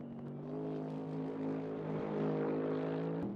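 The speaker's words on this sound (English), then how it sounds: "I always prefer the SLS's noise to the modern AMG. It's a slightly different tone of engine." A Mercedes SLS AMG race car passes at speed, its engine a steady, sustained tone with clear harmonics swelling slightly louder as it nears, heard alone with no talk.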